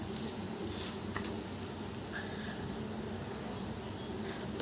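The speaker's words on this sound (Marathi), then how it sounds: "खरपूस कडक असं भाजायचं याला आपण." Sago roasting in ghee in a pan, a faint, steady soft sizzle with a few small ticks and scrapes of stirring, and no one talking.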